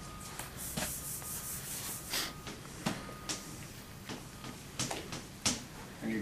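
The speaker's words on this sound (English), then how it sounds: "you drill right here and make a hole" A hand drill bit bores into clay, grinding and scraping in irregular rough bursts with small clicks, close by, with no talking.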